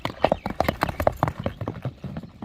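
Hooves of a well-kept horse walking on concrete give a steady, fairly close clip-clop rhythm of repeated sharp knocks, with no voices.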